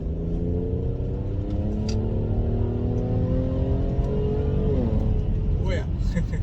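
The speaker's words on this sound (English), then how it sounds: "So when you shift down, on every shift, every gear down, that it makes a popping sound." A Mercedes-AMG GLE 43 SUV's engine drones and shifts through gears while driving, with the exhaust note rising and dropping and a few pops near the end, heard steadily from inside the car.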